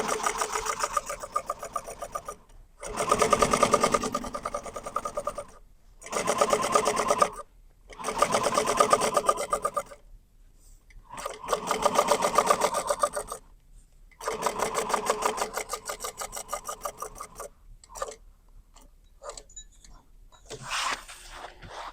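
A sewing machine stitches a pool tote bag in several steady, rapid runs of needle chatter, each lasting a few seconds and separated by brief silent pauses for backstitching, heard up close.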